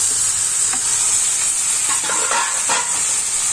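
Boiled chana dal and amaranth stems drop into a hot frying pan, giving a steady loud sizzle and hiss with a few scraping stirs, no voices.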